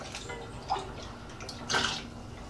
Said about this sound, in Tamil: அது தேவையான அளவு தண்ணி ஊற்றி